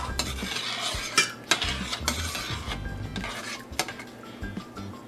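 A spoon stirs turmeric into pickle brine in a metal pot on the stove, with repeated close scraping and clinking against the pot sides in an uneven rhythm and a faint sizzle underneath.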